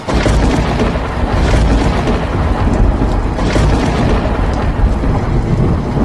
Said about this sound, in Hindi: अचानक काले बादल छा जाते हैं और जोरदार बारिश शुरू हो जाती है